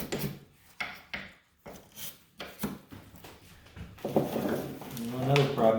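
Felt residue is rubbed off the wooden back rail of an old Steinway piano under restoration, making a run of rhythmic rasping strokes roughly once a second, close and fairly quiet, with a voice speaking near the end.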